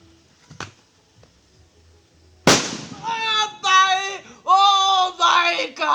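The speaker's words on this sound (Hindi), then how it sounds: "तो यहाँ पे हम लोग लेके आया है पटाखे, तो इसको हम लोग जलाएंगे" Diwali firecrackers are set off outdoors: a faint pop, then one loud, sharp bang with a crackling tail. Loud, excited voices follow.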